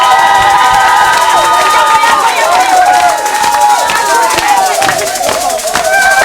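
A church congregation cheers and claps together in a loud, sustained roar, with voices rising and overlapping throughout and an energetic crowd din that dips slightly midway before swelling again.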